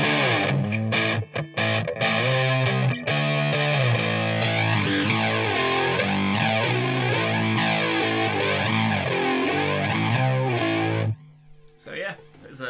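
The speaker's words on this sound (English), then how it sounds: "it's a pretty decent sounding flanger and gain" Electric guitar through a Dr Scientist Bitquest pedal with heavy distortion and a sweeping flanger effect, sustained chords whooshing up and down, then cutting off abruptly near the end.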